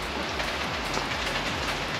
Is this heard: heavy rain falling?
yes